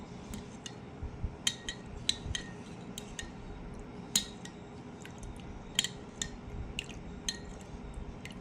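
A spoon clinks and scrapes in a container while stirring pink Himalayan salt into water, giving faint, irregular metallic taps over a low steady background hum.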